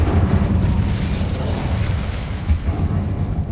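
Incendio fire spell cast in Hogwarts Legacy, a steady roaring, whooshing burst of flame with low rumble that holds for several seconds, with faint fighting noise beneath.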